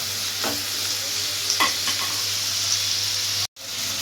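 Maggi noodles stirred in a hot pan: a continuous close sizzle with a low hum beneath, broken by a few soft scraping strokes of the spoon, ending with a brief dropout.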